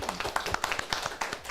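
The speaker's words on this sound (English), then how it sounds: "Can we get a little round of applause in the room?" A small crowd at a live Giving Day broadcast in a ballpark gives a brief, scattered round of clapping, the individual claps distinct and close, with some talk mixed in.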